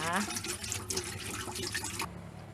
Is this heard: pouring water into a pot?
yes